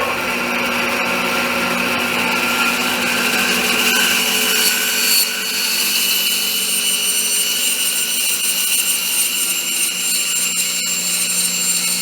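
A saw cuts a free-form curve through a piece of wood in a shop, giving a steady, close, continuous rasping whine that carries on unbroken with no talking.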